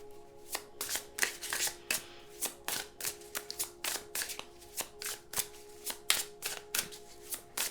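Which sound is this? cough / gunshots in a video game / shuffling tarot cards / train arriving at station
shuffling tarot cards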